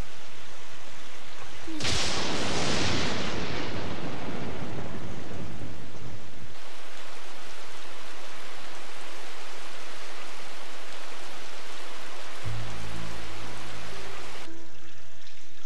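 A thunderstorm with heavy rain: a loud thunder crash bursts out early, then steady rain hisses on for the rest, with a low rumble returning near the end.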